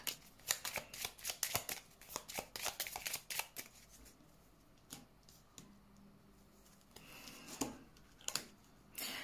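Tarot cards shuffled by hand before a reading, a run of quick riffling, flicking bursts close by, then a quieter stretch with scattered soft card taps and one more shuffle near the end.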